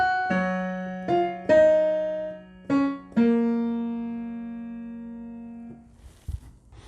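Piano playing part of the chorus of a song, a few sparse single notes and held tones decaying slowly, clear and moderately soft, with a brief faint noise at the end.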